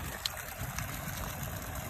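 Water flows steadily through a water filtration and recycling system, a continuous rushing, splashing wash like a small waterfall that fills the whole stretch at even volume, with no talking.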